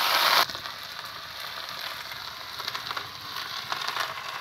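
Potatoes and vegetables sizzle steadily in a pan of hot oil with fried onion, bay leaf, dried chilli and black cumin. The frying hiss is continuous after a brief louder burst at the start.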